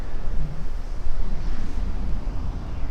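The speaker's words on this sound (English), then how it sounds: "It's really, really windy too." Strong wind roars and buffets steadily on Fraser Island, low and rumbling throughout, with no voices.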